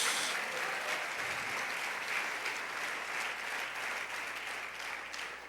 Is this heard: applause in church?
yes